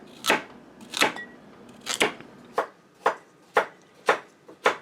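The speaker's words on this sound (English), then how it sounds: "Mark is still back there cutting on carrots" Sharp, rhythmic knife chops through carrots on a cutting board, about one or two per second, crisp and close with no talking.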